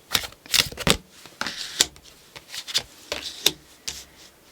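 Tarot cards are shuffled by hand close up, with a run of quick riffling bursts and soft slaps in an irregular rhythm and no voices.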